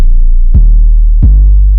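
Two clean 808 bass notes from the 808 Warfare library hit about 0.7 seconds apart, each a deep booming sub-bass thump with a sharp attack and a long sustain.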